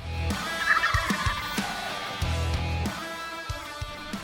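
A big wild turkey gobbler in a spring hunt, drawn in by jake yelps, gobbles loudly and close in a rattling burst, with low clucks, rustles and scattered clicks around it and no talk.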